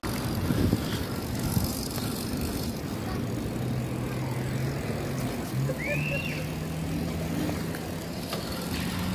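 A Gary Fisher mountain bike rides along a road, its tires giving a continuous rolling hiss and faint drivetrain whir, steady and fairly close, with passing traffic noise in the background.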